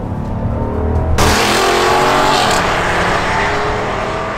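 A Jeep Grand Wagoneer's 392 V8 accelerates hard, its loud engine roar swelling suddenly after a quiet start and holding a strong, rising drone to the end, with no talking.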